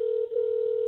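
Steady telephone ringback tone on an outgoing call, a continuous hum that holds at an even level with a brief dip, heard alone.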